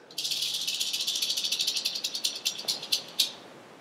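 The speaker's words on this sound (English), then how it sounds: "Some venomous snakes in North America have this, a rattle." A venomous North American rattlesnake shakes its rattle in a steady buzzing rattle that breaks into separate, slowing pulses toward the end, close and with no other sounds.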